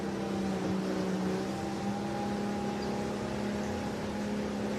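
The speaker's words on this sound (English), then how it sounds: "You can hear the roar of our engines." Outboard engines on 16ft and 13ft racing skiffs roar steadily at close range during a state championship race on the water, a continuous loud drone with wind and water noise and no talking.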